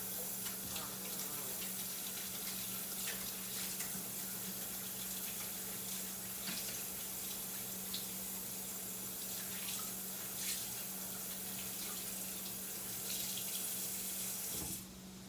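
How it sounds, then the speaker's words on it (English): A kitchen faucet runs steadily as hands are rinsed during cooking of homemade salmon croquettes, a continuous close hiss of water that holds for about fifteen seconds and then stops. "Rinse my hand again."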